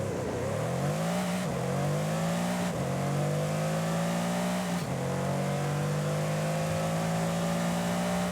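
The 4-litre engine of a 2018 Mercedes-AMG E63S in Forza Horizon 5, climbing hard through several gears in loud, continuous revving with brief dips at each shift.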